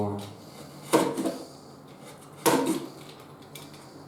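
Kitchen cabinet doors in an apartment under renovation in Kyiv are handled in two distinct wooden knocks a second and a half apart, close by, with a faint clatter and people talking between them.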